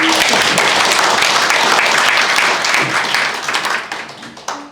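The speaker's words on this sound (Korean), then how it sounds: "큰 박수로 맞이해 주시기" A lecture audience applauds to welcome the invited speaker, dense clapping from a crowd holding steady and close, then thinning and fading out near the end with a few last claps.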